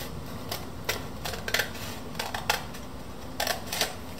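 Scissors cut through paper in a series of short, crisp snips close by, some grouped in pairs, with quiet pauses between them and no talking.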